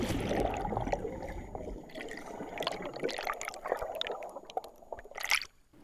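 Water sloshes and splashes in a gentle, irregular rhythm, with soft liquid movement close by and a brief burst of splashing near the end, all fairly quiet.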